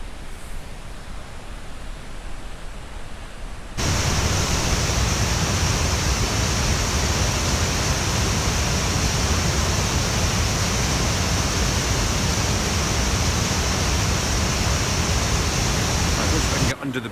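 A Scottish waterfall by a loch roars as a dense, loud, steady rush of water, starting abruptly after a few seconds of quieter outdoor ambience and cutting off near the end.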